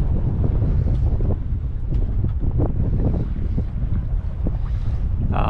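Strong wind buffets the microphone aboard a sailboat arriving at Bequia, a loud, continuous roar with rushing gusts and the wash of sea around the hull.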